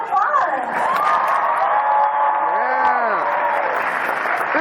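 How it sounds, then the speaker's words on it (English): A convention panel audience at Anime Expo 2014's Sailor Moon dub panel bursts into sustained applause and cheering, with dense clapping, loud whoops and shouts filling the hall throughout. "let's give them another round of applause"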